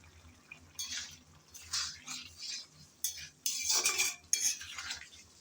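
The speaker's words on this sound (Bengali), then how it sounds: "আবারও আসলাম একটু নেড়ে চেড়ে মিশিয়ে নেব বলে।" A utensil scrapes and clatters against a pan while pumpkin curry is stirred and mixed, in irregular bursts of metallic scraping and tapping with brief pauses between strokes.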